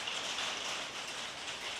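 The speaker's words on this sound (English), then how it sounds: "It's raining." Steady rain patters down, a dense continuous hiss of drops with no pauses.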